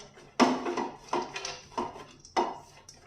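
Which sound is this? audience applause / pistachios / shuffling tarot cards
pistachios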